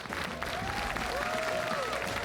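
A crowd cheers and applauds in the arena during the IEM Katowice 2022 StarCraft II quarterfinal between Reynor and Dark, a steady, dense roar with faint tonal sounds riding over it.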